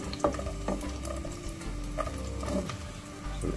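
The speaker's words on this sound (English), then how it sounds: "Pop in some of your garlic in there" Garlic frying in coconut oil in a pan for ackee, a soft continuous sizzle close by, broken by a few clicks and scrapes of stirring, with no one talking.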